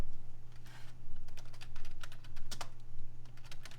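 Steady typing on a computer keyboard, a quick run of close, distinct key clacks with short pauses, a low hum beneath and no talk.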